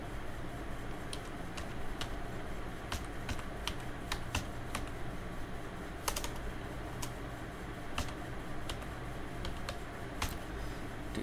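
Keystrokes on a computer keyboard while entering data into an Excel sheet, sharp separate clicks at an uneven pace over a loud steady background hiss and hum, no voice.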